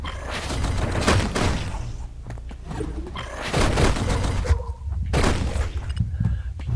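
Turrets fire in the action game Hyper Light Drifter, dense crackling volleys of shots and impacts in bursts with brief quieter gaps, loud and busy throughout.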